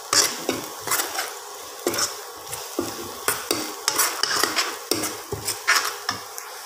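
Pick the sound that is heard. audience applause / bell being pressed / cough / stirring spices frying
stirring spices frying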